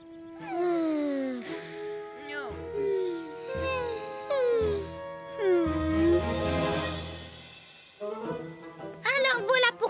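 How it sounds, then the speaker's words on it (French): Little dogs whimpering and whining in rising and falling high-pitched cries, close and fairly loud, repeated continuously with several overlapping voices. "Nos petits chiens n'ont pas l'air dans leur assiette."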